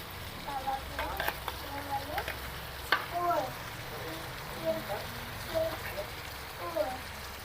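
Pieces of murrel (snakehead, korameenu) fish fry in a pan and are turned over, giving a steady close sizzle and crackle with light scrapes and taps and a faint voice in the background.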